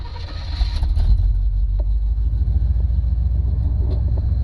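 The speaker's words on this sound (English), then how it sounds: "Let's try cranking it." A 1985 Chevy wagon engine turning over and catching, then settling into a loud, close, steady low rumble with no talking.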